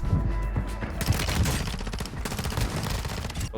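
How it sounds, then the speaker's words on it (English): Rapid Boss P submachine gun fire in Warzone, a fast automatic burst of shots running through nearly the whole stretch, loud and dense with game sounds around it. "the Boss P is the fastest SMG that you can use in Warzone right now"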